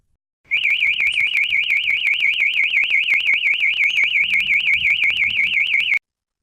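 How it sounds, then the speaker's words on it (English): Audible anti-theft alarm from a fleet tracking router sounds alone: a loud, continuous warbling electronic tone that rises and falls rapidly and steadily for about five and a half seconds, then cuts off abruptly. "This command triggers an audible warning useful in case of theft."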